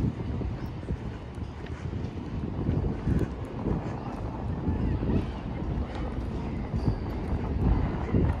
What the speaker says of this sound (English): It is nice and windy here,